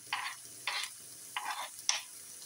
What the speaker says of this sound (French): Donc là je vais rajouter un peu de poivron jaune que j'ai coupé vraiment en tout petits cubes.